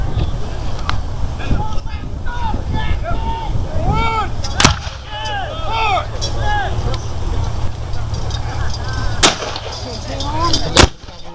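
Booming artillery and rifle fire crack out at intervals at an American Civil War re-enactment at Spetchley Park, England, with horses present, a few sharp loud blasts over a steady background rumble and scattered voices.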